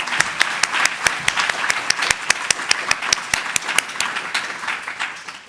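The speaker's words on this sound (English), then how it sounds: "Can we just get one more round of applause for Freddie, please?" A modest group at a tech talk claps steadily after a live coding demo, with distinct sharp individual claps standing out in a fairly quick, even rhythm throughout.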